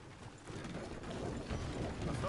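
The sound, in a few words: horse hooves in video game Red Dead Redemption 2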